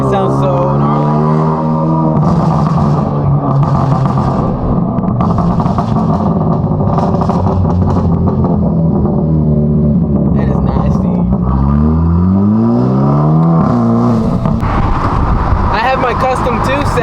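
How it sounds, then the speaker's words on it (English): A Hyundai Elantra N exhaust set to pop on every shift, revving loud and close through repeated gear changes, with rising engine pulls and sharp crackles between them while someone talks over it. "Custom 2 setting, so it'll always pop on every single shift like that DSG style"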